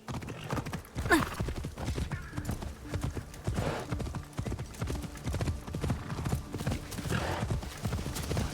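Horse hooves galloping in a Japan walking video game: close, loud, steady rhythmic hoofbeats running continuously throughout.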